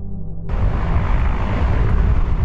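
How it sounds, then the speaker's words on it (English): A loud, steady broadband roar of helicopters overhead during a flood cuts in abruptly after a low hum, continuing unbroken and close, drowning out rushing water. "The sound of rushing water is drowned out by helicopters"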